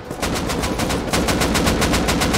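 Rapid automatic gunfire in the survival game Rust, a steady stream of evenly spaced shots rattling on without pause for the whole stretch, loud and close, with no voices.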